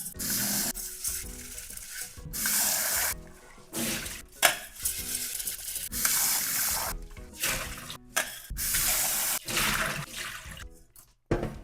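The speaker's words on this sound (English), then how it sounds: "So the very first thing is to rinse the rice." Water splashes and swishes in a pot as sushi rice is rinsed, with irregular pulses of pouring and sloshing, close by, no speech.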